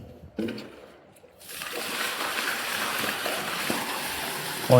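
Water from a tanker pours into a home water tank as a steady rushing, splashing flow, starting after a short quiet stretch and continuing loudly to the end.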